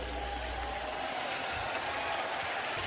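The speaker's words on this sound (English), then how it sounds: "And Adam Jones receiving a very nice round of applause." A Fenway Park baseball crowd applauds Adam Jones as he comes up to bat, a steady, broad wash of clapping and crowd noise with no clear breaks, heard at a distance with a faint voice mixed in.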